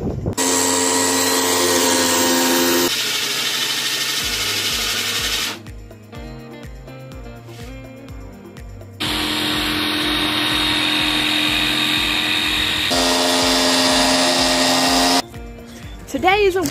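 A power tool cuts and drills plywood for a horsebox ceiling. It runs loud and whining in long sustained bursts, with two short pauses where quieter rhythmic knocking sounds come through. There is no talk.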